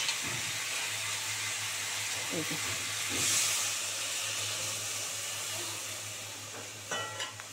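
Mixer-rinsing water poured into fried, oil-separated spice paste in a pan for rohu fish curry, giving a steady loud hiss and sizzle throughout with a few soft clinks and stirring scrapes, no talk.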